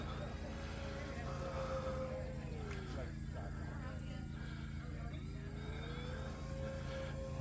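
An FMS P-47 model airplane flies a loop at a fun-fly, its electric motor whining in a steady drone that bends down in pitch and then climbs back up, heard faintly at a distance under a voice.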